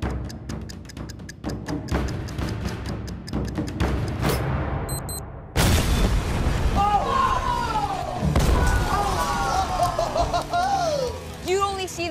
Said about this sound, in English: Nothing can compare to a real live explosion.